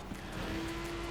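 A racing car engine in the video game Forza Horizon 4 holds a steady, droning tone that climbs slightly as it revs, loud and close, with no speech.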